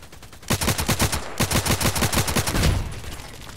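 Rapid automatic gunfire from the video game Contract Wars, two loud close bursts of evenly spaced shots with a brief pause between, ending in a fading tail.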